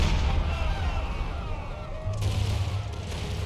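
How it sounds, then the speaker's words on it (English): Artillery fire in an Empire 2 multiplayer battle of the War of the Spanish Succession, a steady rumble of distant booming cannon hits layered with low musket crackle throughout. "Ooh, some more good artillery hits."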